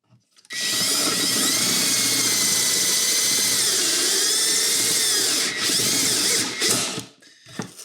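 A power drill with a 5/8 paddle bit runs continuously for several seconds, loud and close, its whine wavering slightly as the bit bites, then stops with a few clicks.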